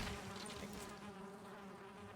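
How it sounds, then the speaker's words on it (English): Bees buzz in The Last Longhouse video game, a soft, continuous droning hum with a steady pitch that holds throughout, fairly quiet and heard alone without voices. "because there are bees again"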